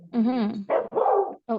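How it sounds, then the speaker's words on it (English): A Samoyed dog barks a few times nearby, short voiced yaps with a brief whine-like pitch sweep, mixed with a person's murmured words. "if you hear the dog, that's why he's a very cute, adorable Samoyed"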